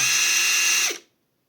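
A Catpower 4226 cordless impact wrench runs free at speed with a high, steady motor whine for about a second, then winds down and stops, close and alone.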